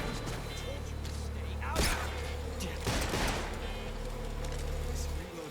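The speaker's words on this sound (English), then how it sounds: "They're shooting from behind" Enemy gunfire in the stealth action game Metal Gear Solid Delta: Snake Eater, a few sharp shots cracking through a steady jungle background ambience, with a player talking over them.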